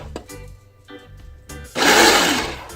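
A Ninja Ultra Prep blender with water swirling inside to clean the blade bursts into a loud, dense whir after a few clinks and taps, the motor roaring close up.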